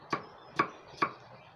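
Three crisp knife chops on a cutting board, evenly spaced about half a second apart, as food is sliced for a clear soup; close and distinct with quiet between strokes, no talk.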